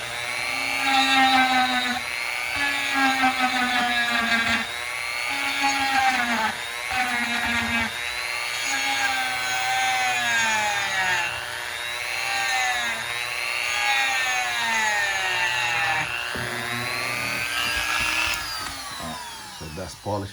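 A rotary tool polishes the inside of a Ruger 57 pistol, whining steadily and close with repeated rising and falling pitch sweeps as the bit presses and eases off, running almost continuously for about twenty seconds.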